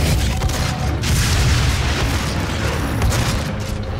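Booming gunfire in the video game DOOM, a dense run of loud, heavy blasts and explosions.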